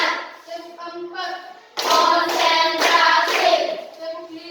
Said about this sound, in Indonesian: berikan aplaus 3 kali